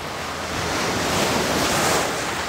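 Ocean waves surge far up a beach, a steady, loud wash of surf that swells and rolls continuously, with wind noise on the microphone and no voices.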